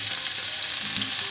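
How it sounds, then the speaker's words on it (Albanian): Zucchini fries lightly with spice powder in hot oil after the heat is switched off, giving a close, steady, dense sizzle throughout with no voices. "Dhe do t'i japim një skuqje të lehtë në mënyrë që t'i dalin aroma"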